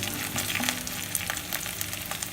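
Curry leaves and onions frying in hot oil for a soya chunks fry, giving a dense, even crackle and sizzle close by with faint occasional stirring, no voices.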